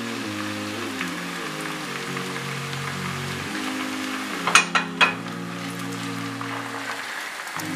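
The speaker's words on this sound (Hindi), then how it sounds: "और 1 मिनट के लिए इसे फ्राई करेंगे ताकि इसका कच्चापन ख़त्म हो जाए" Masala frying in a pan as tomato paste is added for samosa chaat, a steady sizzle with a low hum beneath and a few sharp clatters of a spoon midway, with no talk.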